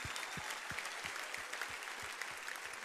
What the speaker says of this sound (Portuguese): A igreja vai aplaudir vocês mais uma vez.